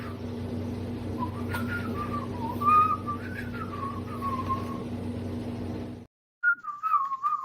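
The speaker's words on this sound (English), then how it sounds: "when you were whistling that tune" A person whistles a wavering melodic tune over a steady low hum, breaks off briefly into near silence, then resumes whistling.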